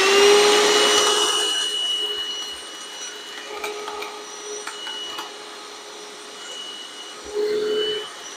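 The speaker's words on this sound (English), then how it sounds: "The test I like to do with vacuums is screws and nails." A Hercules 20V cordless half-gallon vacuum whines steadily and loudly while it sucks up bolts, with faint rattles and clicks as they are pulled in. A brief exclamation is heard near the start.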